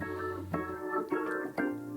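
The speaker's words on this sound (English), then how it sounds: "That's the sound of a tone wheel organ." A 1962 Hammond A100 tone wheel organ plays sustained, warm chords with a few brief accented note changes, steady and full, with no voice.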